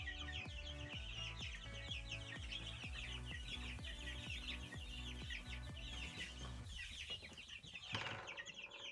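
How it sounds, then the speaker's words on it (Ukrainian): Chickens cluck and chatter softly in a busy, continuous murmur, with chicks peeping high above and a brief flutter near the end. "І гендичата, і курчата різного калібру, різної його породу."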